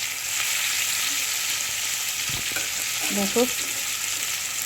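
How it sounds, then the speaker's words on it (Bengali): Pieces of pointed gourd frying in oil in a pan, with a steady close sizzle throughout and a few stirring knocks, while a voice speaks briefly near the end. "পটলগুলো দেখো অনেকটা ভাজা হয়েছে"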